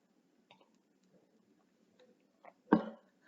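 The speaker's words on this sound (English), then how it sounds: "Excuse me, I have a bit of a cough." A single short cough, fairly loud and close, near the end of an otherwise quiet stretch, preceded by a few faint breaths or throat sounds.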